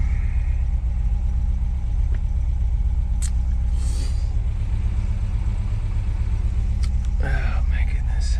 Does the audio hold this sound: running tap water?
no